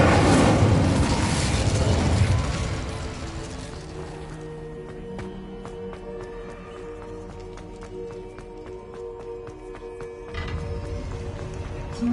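Incendio fire spell cast in Hogwarts Legacy, a loud roaring burst of flame that fades into a lingering tonal magical shimmer, with a second rush swelling near the end.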